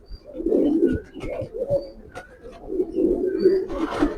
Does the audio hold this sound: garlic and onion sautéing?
no